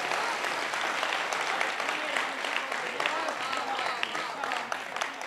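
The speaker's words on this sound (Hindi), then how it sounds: "एक बार जोरदार तालियां बजा दीजिए" Crowd applause at a Dussehra fair poetry recital, loud, dense and continuous clapping from a large gathering, with faint voices mixed in beneath.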